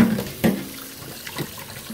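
Cold water runs from a sink tap in a home kitchen, a steady faint wash of flow with a few brief splashy bursts as hands move under the stream.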